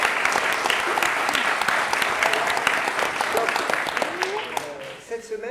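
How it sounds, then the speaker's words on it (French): An audience applauds at a public painting class, a dense burst of many hands clapping that holds steady, then thins and fades near the end as a voice starts to speak. "qu'on peut applaudir"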